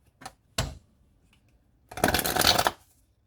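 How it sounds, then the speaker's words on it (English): Tarot cards are shuffled by hand, close and quiet, in a quiet room. Two quick short riffles come first, then a longer rustling shuffle lasts under a second. "One more shuffle."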